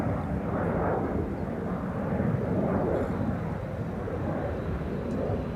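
A United Boeing 787-8 Dreamliner bound for Chicago O'Hare takes off from Amsterdam Schiphol's Polderbaan runway, producing a steady, broad, low jet rumble at moderate distance throughout.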